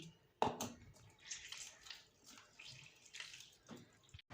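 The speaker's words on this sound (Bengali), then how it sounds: "তেঁতুল জল দিয়ে ভিজিয়ে রেখে দিয়েছি এখন তেঁতলটা আমি গুলিয়ে নিচ্ছি" Soaked tamarind being squeezed and stirred by hand in a bowl of water for panipuri, giving soft, wet squishing and sloshing sounds, close and quiet, in irregular bursts.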